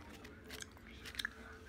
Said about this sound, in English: Gonna be chewing them all up.